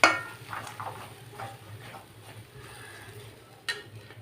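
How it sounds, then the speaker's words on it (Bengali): A spoon scrapes and clinks faintly against a kadai while dhoka mixture is stirred, giving irregular soft strokes over a low background hum, with a sharper knock near the end and no talking. "আমি এই ধোকাটা করার জন্য কড়াইয়ের মধ্যে দিয়ে নাড়ছি।"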